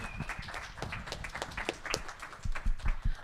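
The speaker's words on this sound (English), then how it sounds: "Can we have another round of applause for Sean, please?" Scattered applause from a conference paper session audience, light and uneven, with a few louder claps toward the end.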